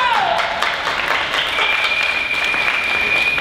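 Audience applause at a national improv theatre competition final, a dense steady wash of clapping filling the room with a faint whistle gliding through it, over three seconds with no voices.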